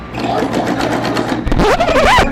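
A domestic sewing machine stitching buttonholes into a Victorian-style blouse, running as a steady close whir throughout, with a rising tonal sweep toward the end as the motor speeds up.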